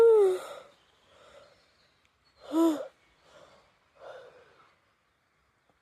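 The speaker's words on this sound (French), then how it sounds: "Moi je bâillerai sur commande" Drawn-out yawns during a laughter yoga session, two long vocal sighs with softer breathy exhales between them, close and clear with quiet pauses.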